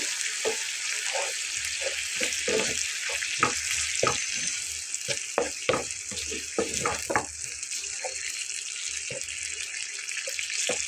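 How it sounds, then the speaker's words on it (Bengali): A ground paste of ginger, garlic, cumin and dried and green chillies fries in a pan with a continuous hissing sizzle, punctuated by frequent irregular scraping knocks of a spoon stirring against the pan. "মশলাটা খুব ভালোভাবে কষিয়ে নিতে হবে বন্ধুরা"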